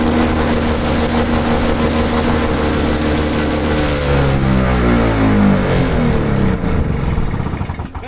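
A small gasoline engine, apparently fed an over-oiled fuel mix, runs loud and close at a steady idle with a rising and falling pitch sweep midway, then begins to wind down near the end.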